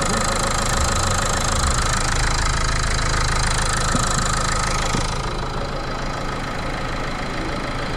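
A Renault Clio 4 with a 1.5 dCi diesel engine runs in a workshop after a timing belt change, giving a loud, steady, clattering idle close by that eases slightly in level partway through, with no voices.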